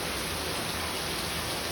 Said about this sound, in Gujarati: જો વરસાદ જોવો એ કેટલો છે